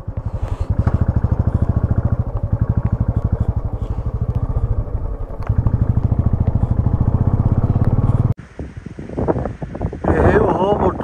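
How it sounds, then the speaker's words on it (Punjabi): Motorcycles ride through Pin Valley National Park, their engines loud and close with a steady pulsing throb and heavy wind buffeting, then a brief drop before the rough engine noise returns. "ਇਹ ਉਹ ਮੋਟਰਸਾਈਕਲ ਨੇ ਜਿਹੜੇ ਕਿ ਨਾ ਪਿੰਨ ਵੈਲੀ ਨੈਸ਼ਨਲ ਪਾਰਕ ਦੇ ਵਿੱਚ ਪਹਿਲੀ ਵਾਰ ਪਹੁੰਚੇ ਨੇ"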